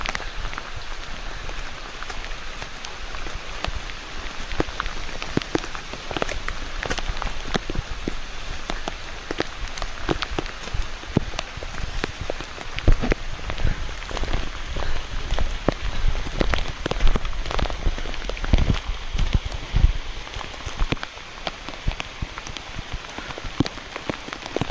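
Rain falls steadily on a hillside during the monsoon, a continuous close patter with sharp scattered drops striking nearby surfaces, heard alone for the whole stretch.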